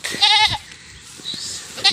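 A goat bleats nearby, a short quavering call, followed by a quieter one and the start of another bleat at the end.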